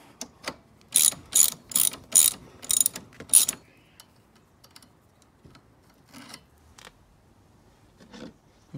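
A hand tool ratchets in quick bursts while the rear brake cable comes off a Yamaha PW80 dirt bike, with a run of sharp close clicks followed by sparse faint mechanical taps.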